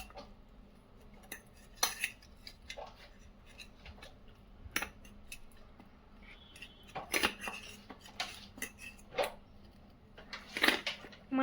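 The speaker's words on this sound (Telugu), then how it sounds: "ఇప్పుడు మనం ఈ అవకాడోని మంచిగా స్మాష్ చేసుకుందాం." Avocado mashed into a smooth paste for avocado bread toast, heard as irregular soft scraping and clinking of cutlery against a bowl, close and fairly quiet, with scattered sharper taps.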